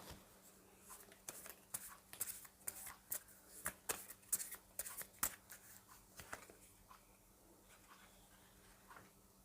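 Oracle cards are shuffled by hand for a card reading, a series of quick papery riffles and slaps close by, bunched in the first half and then thinning out into quiet.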